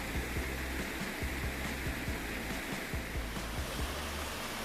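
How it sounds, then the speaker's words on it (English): A waterfall in Northern Ontario roars as a steady, dense rush of falling water, constant and fairly loud, with low thumping bumps beneath it, likely from handling or wind. "Waterfalls are kind of pretty."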